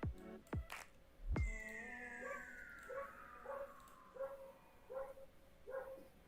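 A dog gives a string of short, quiet yips and whimpering barks in a regular rhythm, faint and somewhat distant, with a rising electronic tone and a few thumps at the start.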